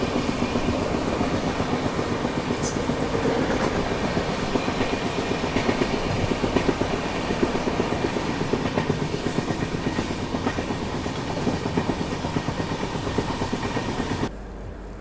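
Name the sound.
Rapti Sagar Express train running after departing Mancherial station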